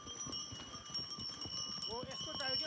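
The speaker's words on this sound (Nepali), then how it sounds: "चल मेरे घोडे टिक टिक टिक" Horse hooves clip-clopping along a trail near Rara Lake, heard as a faint, steady rhythm of light clops, with a voice and other human sounds mixed in.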